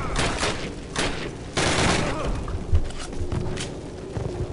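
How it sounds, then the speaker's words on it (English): American gunfire in the Call of Duty video game, with repeated bursts of automatic fire and sharp single shots nearby, separated by short pauses over a busy battlefield background. "that sounds like American fire"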